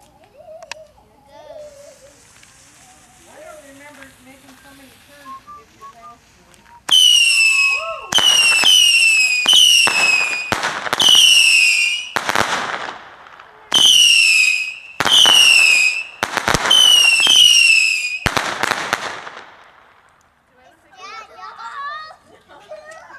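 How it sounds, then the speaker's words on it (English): Fireworks exploding outdoors in New Mexico: a rapid run of loud, close whistling bursts and bangs for about twelve seconds, with brief pauses, then fading, with faint children's voices before and after. "Enjoying the fireworks."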